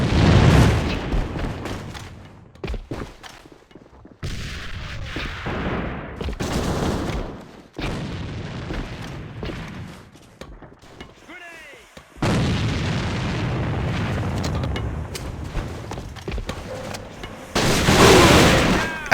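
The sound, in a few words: grenade explosions and gunfire in video game AVA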